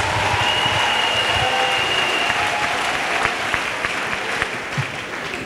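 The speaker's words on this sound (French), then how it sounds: "Acclamons pour Jésus-Christ." Sustained applause from a large church gathering acclaiming Jesus Christ, steady and loud throughout with scattered individual claps standing out toward the end.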